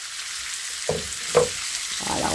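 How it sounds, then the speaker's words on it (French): Mushroom pieces dropped into a hot pan for an omelette, a soft steady frying sizzle with two brief louder crackles as pieces land, close and alone without talk. "Allez, j'ajoute mes champignons."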